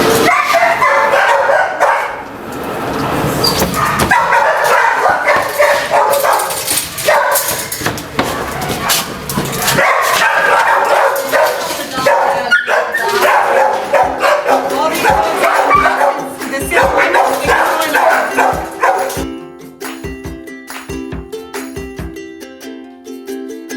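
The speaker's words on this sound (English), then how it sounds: "All the dogs in these rooms we catch running astray through the city limits." Dogs in an animal shelter kennel room barking, yipping and whimpering loudly and continuously, many voices overlapping close by, with a person talking at times before the din drops away near the end.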